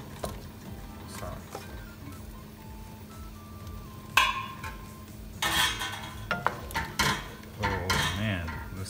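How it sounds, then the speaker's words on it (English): Zucchini tipped into a pot of Thai beef curry and stirred, with a run of close clanks, scrapes and knocks from a spoon against the pot and a soft sizzle underneath. "I'm going to add my zucchini in this now. All the zucchini."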